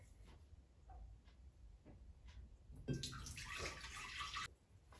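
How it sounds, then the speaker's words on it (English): Water is poured into a container for a kitchen baking soda experiment, a close splashing pour that swells after a few quiet seconds with small ticks, then cuts off near the end. "First, we are going to add the water."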